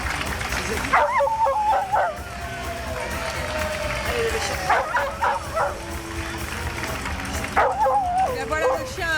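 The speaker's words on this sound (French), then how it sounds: "voilà le chien rocker qui chante" A dog on a television studio set yips, whimpers and howls in repeated wavering bursts, loud and close, over a crowd murmur and voices, as if singing along to rock music.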